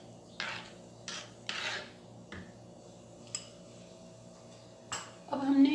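A spoon scrapes and clinks against a pot while stirring besan (gram flour) mixed with water, in a few short separate rubbing strokes, close and fairly quiet, with a louder clatter at the end.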